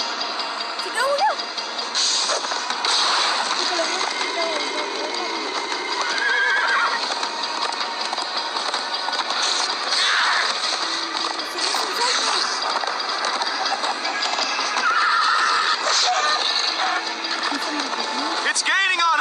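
A galloping horse in the Minecraft Story Mode video game, steady clip-clop hoofbeats under a busy action soundtrack, with a whinny or two and game characters shouting over the chase.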